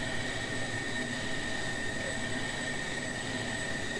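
Fighter-type aircraft engine at full dry throttle during a 250-knot climb, a steady, dense roar with a persistent high whine that holds constant throughout.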